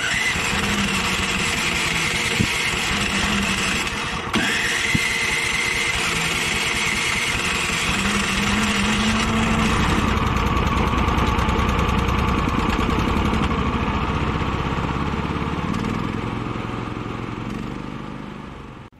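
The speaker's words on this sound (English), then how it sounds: "We did not do a pull start, we just did an electric start" APWC420 wood chipper's small engine after an electric start, settling into a steady, loud idle at close range that stays even for most of its length before fading slightly toward the end.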